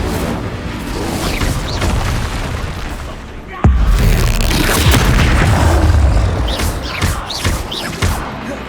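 Repeated Expulso spell blasts in the video game Hogwarts Legacy, with a loud booming explosion burst midway, under dense ongoing game noise and a voice shouting spell names throughout.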